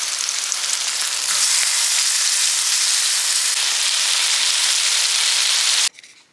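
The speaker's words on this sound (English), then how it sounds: "So I got my patties here cooking on medium heat." Chicken sausage patties fry in a pan over medium heat, giving a steady, loud, dense sizzle that runs without a break and cuts off abruptly near the end.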